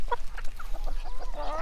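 Several chickens cluck and murmur softly at close range on a farm, in short, irregular bursts with higher squawky notes toward the end; no one speaks.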